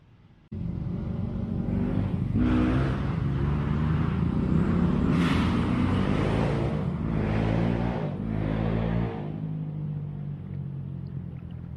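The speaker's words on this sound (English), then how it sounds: "Sorry for the noise. I didn't know it'd be motocross down here this evening" Motocross motorcycles rev nearby beside a river, a loud rumbling drone of engines rising and falling in several surges before easing into a steady idle.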